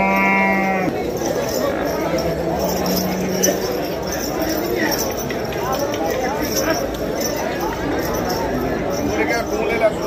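Buffaloes low and shuffle amid a busy livestock market in Kurali, with steady crowd chatter and people talking close by throughout.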